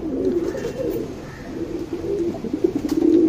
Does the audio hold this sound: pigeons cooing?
yes